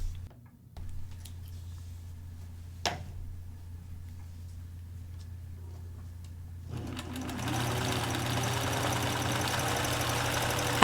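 A sewing machine stitches a skirt seam, quiet handling sounds at first, then the machine starts running steadily and closely for the last few seconds.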